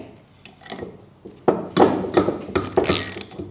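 Ratchet wrench tightening doubled nuts onto new studs on a turbo for an RB engine in an S13, clicking in quick close bursts that grow louder and denser toward the end.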